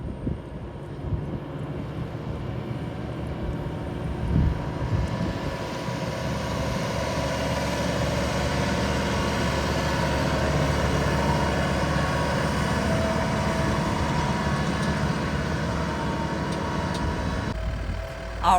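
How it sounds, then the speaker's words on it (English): A farm tractor engine runs at a composting site, a steady low mechanical rumble that holds for the whole stretch, swelling slightly midway and staying close and continuous with no talk over it. "we're gonna get in the tractor."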